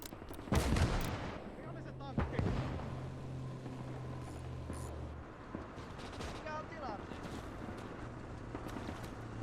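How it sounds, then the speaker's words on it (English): Bomber airstrike on two stationary tanks in the Call to Arms Gates of Ardennes Winter War RTS game, heard as loud booming explosive blasts at the start amid continuous battlefield gunfire and rumble, with a steady engine drone beneath and talking over it. "so we're calling in the bomber on them"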